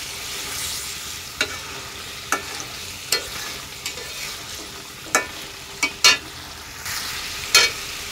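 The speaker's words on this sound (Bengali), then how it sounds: "মাছ দিয়ে দিলাম। মাছটা কষাইতেছি।" Fish pieces sautéing in a pan, a steady low sizzle broken by scattered sharp clinks and scrapes of a spatula stirring, close and moderately loud.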